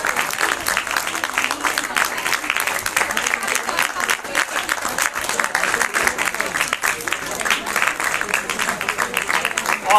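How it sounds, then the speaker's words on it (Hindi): Sustained audience applause for a teacher from a government ashram-type school at a science festival award ceremony in Uttarakhand, many hands clapping in an even, unbroken wash with faint voices mixed in. "जोरदार तालियां कापड़ी जी के लिए।"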